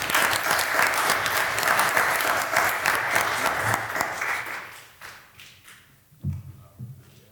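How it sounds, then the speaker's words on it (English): Audience applause at a city council meeting, a dense, steady clapping that fills the first five seconds and then thins out into a few scattered claps and taps. "Give yourself a round of applause."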